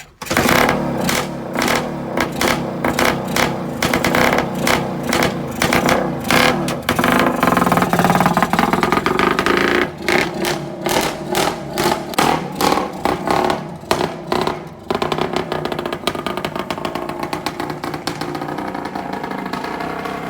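A Suzuki TS250 motorcycle under rebuild, recently tuned to cure a misfire, starts and runs close by with a loud, choppy engine beat, the firing pulses uneven at first and then settling into a steadier running rhythm.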